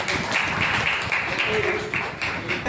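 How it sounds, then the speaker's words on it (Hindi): A church congregation at a Sunday service claps loudly in praise of God, a dense, sustained burst of applause with rhythmic hand claps and some voices mixed in. "जोरदार ताली परमेश्वर को"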